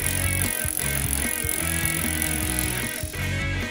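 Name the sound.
bicycle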